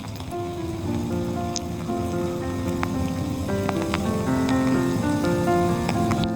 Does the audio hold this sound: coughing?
no